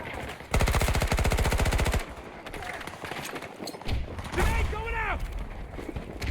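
AK5 rifle fire in the shooter game Battlefield 2042 rattles in a rapid automatic burst for over a second, followed by scattered game effects and further shots while players talk over it.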